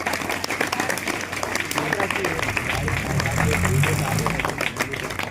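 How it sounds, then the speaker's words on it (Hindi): A crowd at a school Constitution Day celebration in a village claps loudly to welcome a guest who is a former soldier, a dense, sustained burst of clapping mixed with voices and a low background rumble. "जोरदार तालियों से"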